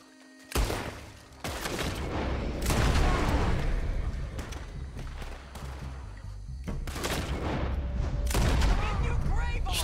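Shooter video game gunfire comes as loud repeated shots and booming bursts over a dense, continuous battle din, with a voice talking underneath.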